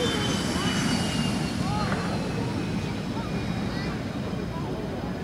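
An F-16 or A-10 jet on its landing approach at an airshow gives off a steady broad roar with a faint whine above it, moderately distant, while a commentator talks over it.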